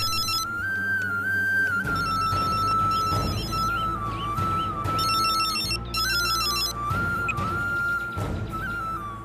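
A phone ringtone plays continuously, looping a bright electronic melody over a steady musical backing, fairly close and with no voices.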